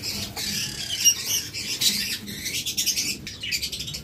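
A pair of split blue pet birds gives sharp, scratchy chirps and short squawks in quick irregular bursts, close by, with a light rustle between calls.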